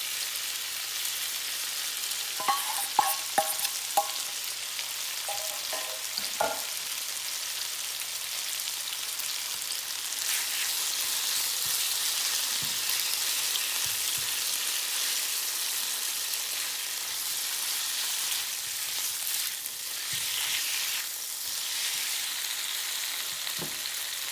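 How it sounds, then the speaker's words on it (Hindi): Beef or chicken frying in a tablespoon of oil in a wok for chow mein, a loud, steady hiss of sizzling oil that swells after a few seconds and carries faint clinks of stirring. "उसी वॉक के अंदर, उसी कढ़ाई के अंदर मैंने 1 टेबलस्पून और ऑयल डाला है और मैं अपने बीफ को या चिकन को इसमें पकाऊंगी"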